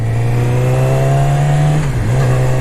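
A Yamaha R6 sport motorcycle engine pulling hard under throttle, a loud steady high drone that climbs slightly, briefly dips with a gear change, then resumes, heard up close with wind noise.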